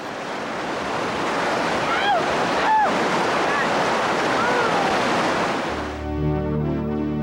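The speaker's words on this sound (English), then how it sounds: "the river is a surging torrent" Whitewater rapids of the Arkansas River near the Royal Gorge in Colorado rush as a steady, loud broadband roar with wind buffeting, faint high squeaks, before music cuts in near the end.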